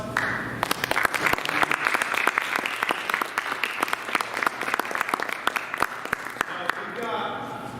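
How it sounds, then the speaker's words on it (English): A comedy show audience applauds the Jesters comedy group, dense sharp claps continuing steadily and thinning toward the end, with voices mixed in. "I want to give all the Jesters a big round of applause."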